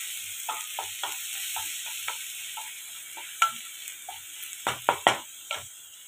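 Chopped garlic frying in a pan of olive oil mixed with butter, a soft steady sizzle under a series of clicks and scrapes from stirring, with a few sharper knocks of a utensil on the pan toward the end.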